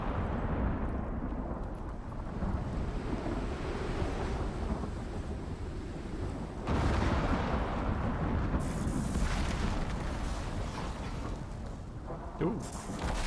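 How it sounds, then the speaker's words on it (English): Grenade blasts in the survival game Icarus, heavy rumbling booms near the woods and a hut, with a fresh loud burst about midway and another toward the end over a constant low roar. "When in doubt, grenade it out."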